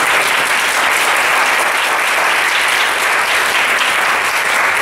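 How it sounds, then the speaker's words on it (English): A large audience at a student youth leaders' dialogue event applauds loudly and continuously, a dense, even wash of many hands clapping with no break. "give another big round of applause to all the countries that presented tonight"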